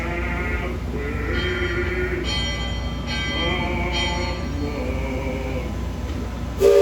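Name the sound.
Liberty Belle riverboat bell ringing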